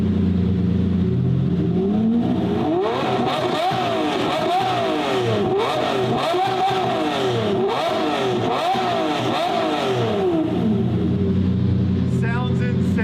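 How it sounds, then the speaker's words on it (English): A Mercedes car engine revs repeatedly, a series of rising and falling throttle blips in a rhythmic pattern, loud and close, with people talking over it. "Couple revs from the Mercy, Mike."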